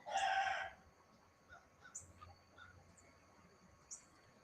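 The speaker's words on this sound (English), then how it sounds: "What a noisy rooster." A rooster crowing near a porch at sunrise, one loud crow at the start, then faint distant clucks and calls in a quiet morning setting.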